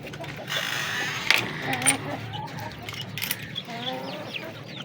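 Fancy hens cluck in a bird setup, with several short clucks and calls from nearby birds over a steady background hum, and other fowl chattering at a distance.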